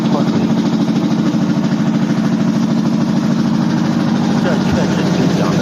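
A front-loading drum washing machine with a suspected faulty counterweight spins at speed. It gives off a loud, steady, pulsing mechanical drone like a tractor engine, continuous and close throughout.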